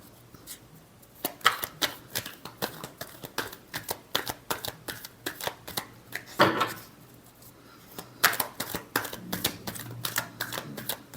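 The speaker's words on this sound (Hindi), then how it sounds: "Last shuffle." Tarot cards are shuffled close up in quick rhythmic bursts of riffling snaps and flutters, broken by short pauses and a couple of firmer taps as the deck is squared. No voices.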